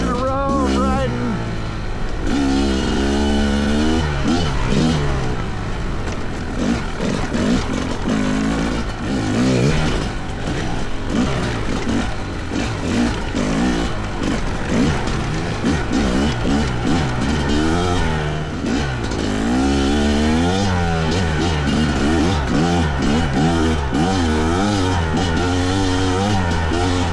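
Two-stroke dirt bike engine, a Fantic XE300 or KTM 300XC-W, heard close up while riding. It revs and bogs without a break for the whole stretch, and a voice talks over the engine.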